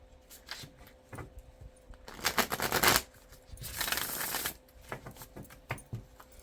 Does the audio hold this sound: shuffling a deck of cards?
yes